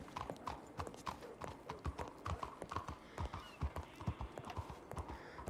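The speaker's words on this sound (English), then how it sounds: "I'm just getting on your horse." Horse hooves clip-clop steadily in the Red Dead roleplay game at a ranch, a close and continuous walking rhythm of evenly spaced hoof strikes with no talk over them.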